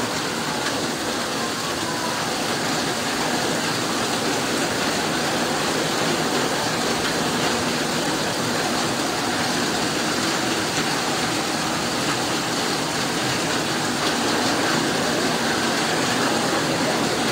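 Heavy typhoon rain pours down in a dense, steady roar that stays loud and unbroken throughout, with no voices over it.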